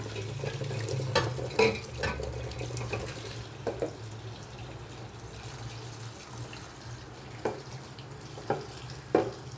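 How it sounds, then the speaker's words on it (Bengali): Leafy greens being washed in a basin of water in a home kitchen: soft sloshing with scattered splashes and drips, fairly quiet, over a low steady hum. "শাকটা ধোবো, একটু ভিজিয়ে রাখলে"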